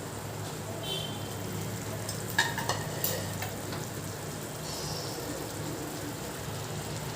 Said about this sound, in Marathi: हे अंडे असे फ्राय करून घेतले होते मी आता ते एक एक करून सोडून देऊया त्याच्यात